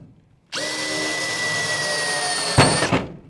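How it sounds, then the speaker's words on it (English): A power drill bores a hole in a metal duct for a static pressure port, starting abruptly into a steady high whine that ends with a brief louder bite as the bit breaks through, close by with no talking. "We're going to take our drill bit."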